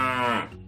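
A cow gives a single short, low moo, close and clear, fading out in under a second with no other sounds around it.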